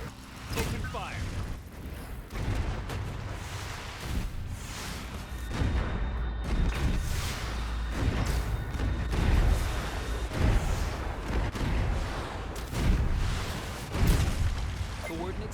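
Ships open fire in the futuristic city-builder Anno 2205 during a naval combat mission, with heavy booming cannon blasts and rumbling impacts rolling on continuously under in-game voice lines.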